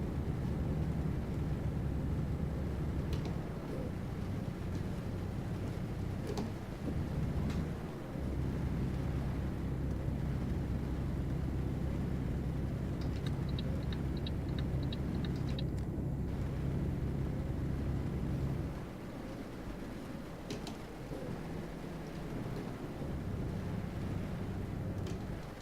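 A heavy-haul truck carrying a 61-tonne load in Euro Truck Simulator 2 drones steadily in the rain, its low engine rumble revving hard on a slight incline before easing off, with rain and road noise constant throughout.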